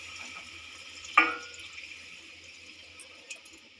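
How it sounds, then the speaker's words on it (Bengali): Hot water splashes into a pot of Bengali shukto curry with spices and vegetable boiling water, a brief faint pour with one sharp splash and a soft trickle. "আর দেবো একটু গরম জল"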